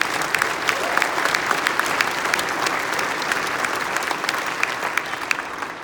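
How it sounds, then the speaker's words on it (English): Steady applause from a crowd at a memorial gathering honoring a large family, dense clapping sustained throughout with scattered sharper claps, fairly close and loud. "let's give a big round of applause to the entire Lydon family."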